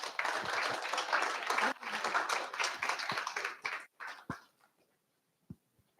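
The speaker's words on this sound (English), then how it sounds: "Give him a round of applause." An audience at a fireside chat breaks into dense applause that holds for a few seconds, then thins into scattered claps and fades to near silence.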